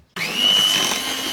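An electric hand mixer whirs on abruptly and keeps running with a steady high whine while blending flour into cookie dough, close and alone.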